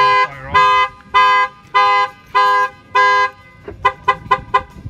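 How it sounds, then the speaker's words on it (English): Car alarm siren sounding in five long sustained blasts, then four quick sharp chirps after the alarm is triggered, loud and close with no talking. "it'll give you four chirps letting you know the alarm was fired off"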